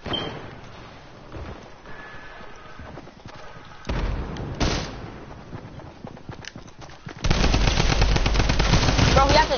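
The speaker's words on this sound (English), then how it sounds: "Bro, he has a drum gun." Rapid automatic gunfire from a drum gun in a video game, loud and sustained in bursts, building to a dense continuous barrage near the end with faint game sounds before.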